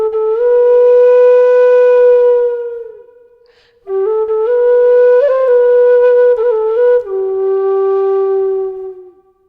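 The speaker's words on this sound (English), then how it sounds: "it requires you to reduce the amount of breath that you put into the whistle at the end of a long held note" Tin whistle plays several long held notes, each fading as breath eases off at the end, with a clear gap between phrases and small pitch bends; solo and close.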